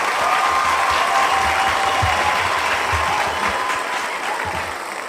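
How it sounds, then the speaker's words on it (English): Recorded applause plays for a podcast host's entrance, a thick continuous wash of crowd clapping that holds steady from start to finish and fades slightly near the end. "I'm going to demand that all of my entrances be accompanied by recorded applause from now on."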